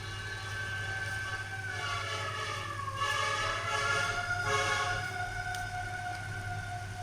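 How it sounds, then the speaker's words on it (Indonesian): A fire truck siren wails distantly over a steady low hum, its pitch rising and falling several times, fairly faint. "Tadi ada suara mobil pemadam kebakaran."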